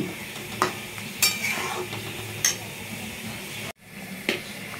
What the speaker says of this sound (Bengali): ঘি দিয়ে একটু নাড়াচাড়া করে নেব